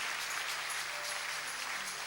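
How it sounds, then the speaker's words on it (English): A church congregation gives a clap offering, a dense, steady wash of hand clapping from the crowd that carries on evenly throughout with no voices standing out. "Give Jesus a clap offering"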